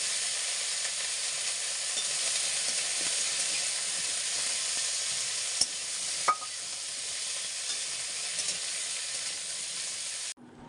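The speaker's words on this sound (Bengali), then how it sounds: "ফোড়নে দিয়ে আমি এখন সবজিগুলো সমস্ত করে নিচ্ছি, সমস্ত ভেজে নিচ্ছি" Vegetables fry in tempered oil in a pan in a hot home kitchen, a steady close sizzle lasting about ten seconds with a couple of brief clinks, then cutting off abruptly near the end.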